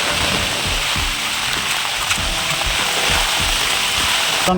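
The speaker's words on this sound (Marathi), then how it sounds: "खूप वारा आहे हा असा वारा असतो आमच्याकडे आणि पाऊस" Strong wind gusting with steady rain in a rural Konkan village, a loud continuous broadband roar with no pauses across the whole stretch.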